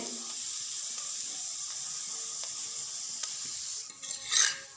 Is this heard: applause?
no